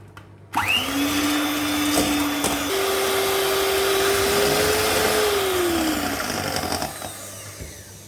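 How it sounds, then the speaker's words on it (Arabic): An electric mixer beats eggs and sugar for an easy cream cake, switching on with a sharp start into a loud, steady whirring drone that holds for several seconds before tapering off, with no talk over it. "ندوز نخلط البيض هذا والسكر مليح"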